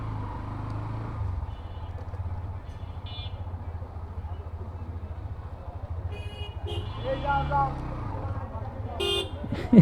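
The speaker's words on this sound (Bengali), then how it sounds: "দেখো ভাই হর্ন দিছে" A vehicle horn toots briefly amid steady engine rumble and road traffic in Mohammadpur, Dhaka, heard from a Hero Xtreme 125R motorcycle, with a couple of short honks toward the end.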